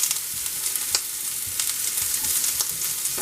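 Onion sizzles in oil in a steel pan on a hot burner, a steady crackling fry with occasional sharper pops and stirring clicks, close and alone without any talk.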